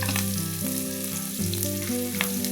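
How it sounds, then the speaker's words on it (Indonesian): Garlic and onion stir-fry loudly and close up in a pan, a dense continuous sizzle with brief stirring scrapes and no voices. "kemudian kita tumis hingga bawang putih dan bawang bombay tercium harum"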